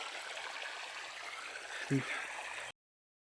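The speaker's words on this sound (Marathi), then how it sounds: "तिथं पाणी सोडलं आहे आत्ता दोनच मिनटात वाफे भरते" Irrigation water flows steadily into field beds on a farm, a continuous broadband rush like a stream, with a brief low thump near the end and no talk over it.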